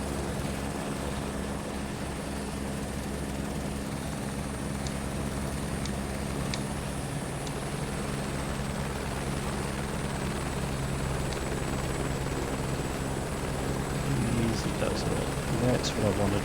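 Helicopter in a flight simulator game, giving a continuous loud rotor drone with a steady engine hum throughout, plus a few faint clicks; someone talks over it at times.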